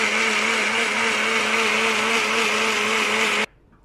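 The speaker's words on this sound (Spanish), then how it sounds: "esto lo vamos a licuar en la licuadora" A blender runs steadily on lemon juice and whole peeled garlic cloves, a loud continuous whirring motor drone for several seconds that cuts off abruptly near the end.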